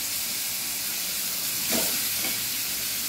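Potatoes frying in a pan alongside soya chaap, giving a continuous close hiss and sizzle with a brief swell of stirring near the middle and no voices.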